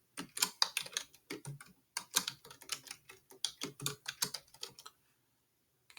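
Rapid keystrokes on a computer keyboard while entering a note annotation in SolidWorks, a dense run of crisp clicks in uneven bursts, close and alone, stopping abruptly near the end.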